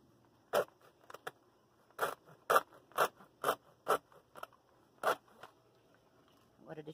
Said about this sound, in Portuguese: Agora deixa eu ver se a tesoura corta, que é pra fazer o vazado aqui do meio.